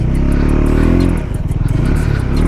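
A KTM Adventure 390 motorcycle revs loudly and close on a dirt hill track, its engine note rising then dropping into a rough, pulsing throttle burble before a jump.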